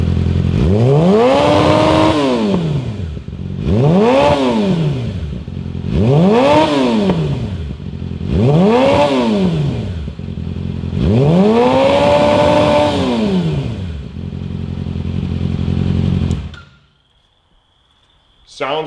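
A Yamaha YZF-R6 sport bike fitted with a Hindle full exhaust system revs hard five times in a row, each sharp rise and fall clear and close, before cutting off abruptly into near silence.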